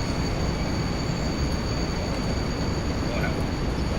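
A train running in Train Simulator Classic rumbles steadily with a continuous rolling roar and a faint high whine, loud and even throughout with no break.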